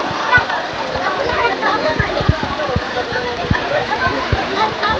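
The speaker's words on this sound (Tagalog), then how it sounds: "Olympic size swimming pool. Free flowing." Water pours and splashes steadily into an Olympic-size swimming pool at a resort, a continuous rushing wash with scattered nearby splashes, as voices of people and children mingle in the background.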